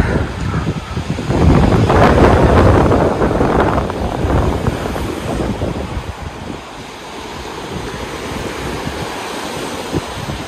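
Sea waves breaking on the Crimean coast, a loud rolling wash of surf that peaks early, then eases into a softer, steady lapping with some wind on the microphone.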